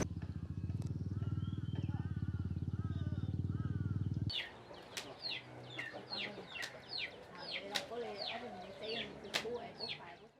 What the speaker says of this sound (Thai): ไก่งวงเนาะใช่ไหมหรือไก่อะไรเนี่ย